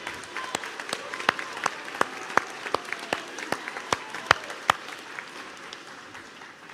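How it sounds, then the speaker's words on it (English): A graduation ceremony audience applauds in a large hall, broad steady clapping with a few sharp nearby claps standing out, gradually tapering off. "Join me in another round of applause to honor those who helped you attain your goal of becoming a university graduate"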